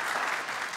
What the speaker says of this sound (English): Go ahead and clap for Nathan and Holly.